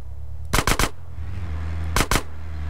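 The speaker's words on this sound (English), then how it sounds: "I'm shooting from here." Gunfire in the video game GTA San Andreas comes as a quick burst of three close, sharp shots, then a short pause and two more shots.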